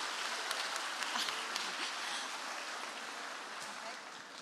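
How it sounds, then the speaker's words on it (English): At a school languages and careers festival, a seated audience claps for Charlotte, a soft, even patter of applause heard from some distance and fading slightly toward the end. "Big round of applause for Charlotte."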